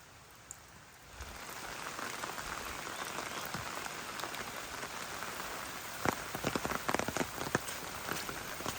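Steady rain patters on surfaces nearby along a trail in Palau, growing denser after a moment, with scattered heavier drips landing toward the end.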